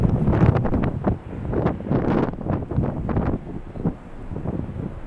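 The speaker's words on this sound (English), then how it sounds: "the winds are definitely increasing" Strong gusting wind at LAX airport, blowing at about 21 knots from 270 degrees, buffets the microphone with a loud, continuous low rumble that surges and eases in waves, with no voices.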